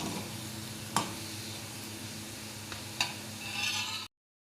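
Gulab jamun frying in oil over a low gas flame, a steady faint sizzle with a couple of sharp clinks of a utensil, close and continuous until the end.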